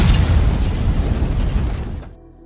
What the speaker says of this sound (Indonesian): Untuk menghilangkan jejaknya, si polisi itu meledakkan rumah Max.